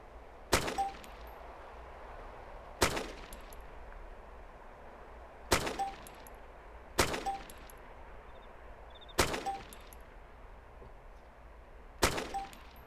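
AK-variant assault rifle firing single shots at targets in the game DayZ, six sharp, loud reports spaced roughly two seconds apart, each with a short ringing tail over a low background hiss.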